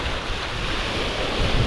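Sea waves wash onto a beach with steady wind buffeting the microphone, a continuous loud broadband roar with no talk.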